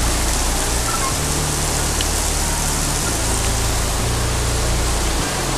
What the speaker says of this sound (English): Check it out, it's raining.